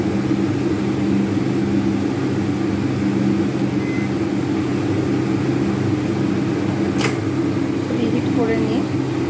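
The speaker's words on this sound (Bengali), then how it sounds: "ওভেনটা আমি প্রিহিট করে নেব।" A microwave oven hums steadily while preheating for a chocolate cake, a constant loud drone throughout with a faint beep near the end and a voice speaking over it.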